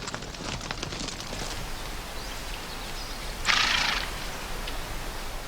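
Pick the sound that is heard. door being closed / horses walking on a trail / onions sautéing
horses walking on a trail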